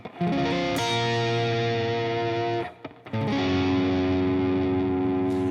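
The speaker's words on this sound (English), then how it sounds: "So let's just hear the chords themselves in sequence." Electric guitar chords ring out with heavy distortion and effects in a slow progression, each sustained chord changing after a couple of seconds with a brief drop between, loud and alone.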